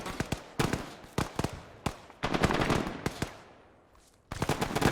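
Bursts of automatic rifle fire and single shots in the Arma 3 game, a World War 3 battle for Tbilisi, crack loudly and close in repeated volleys, with a sustained rattling stretch midway and a short lull before firing resumes.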